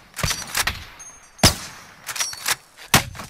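Gunfire in the video game Call of Duty Warzone: several sharp, loud shots spaced irregularly over a few seconds, some in quick pairs, with no talking.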